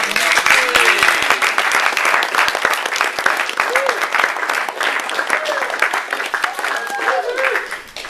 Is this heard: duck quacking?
no